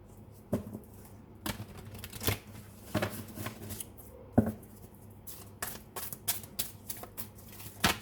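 Tarot cards drawn and shuffled by hand during a reading, heard as a string of close, crisp paper slaps and flicks at irregular intervals with quiet rustling between them.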